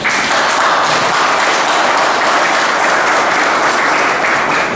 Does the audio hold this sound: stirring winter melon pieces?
no